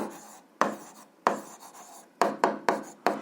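A pen or pencil scratches across paper while sketching a graph by hand for an algebra exercise, a series of short, crisp strokes with brief pauses between them, close and quiet.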